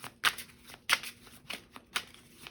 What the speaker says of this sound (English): So I'm gonna go ahead And make sure to really shuffle this deck.